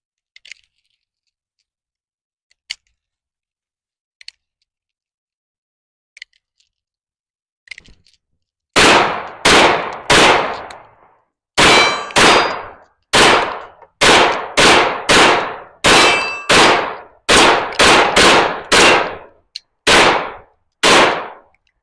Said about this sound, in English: Lee, you want to shoot a little bit more?